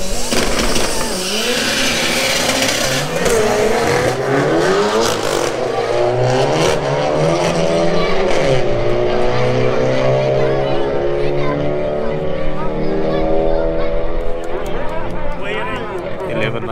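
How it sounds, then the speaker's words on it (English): Mark 1 GTI car accelerating hard down a quarter-mile drag strip, engine note climbing and dropping through repeated gear changes, loud and sustained, with crowd or commentary voices underneath. "Sounded like that GTI shifted through all its gears before it got to the end."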